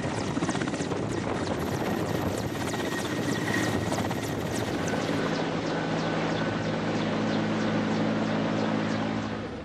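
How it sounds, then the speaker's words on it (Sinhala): A helicopter ferrying goods for a new electricity board project near Sri Pada roars steadily and loud throughout, its rotor chop pulsing rapidly without a break. "හෙලිකොප්ටර් ආධාරයෙන් භාණ්ඩ"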